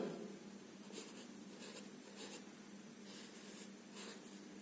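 Numbers being written by hand on a board or paper during a maths lesson, heard as several short, faint scratchy strokes in quick bursts over a quiet room hum, with no talking.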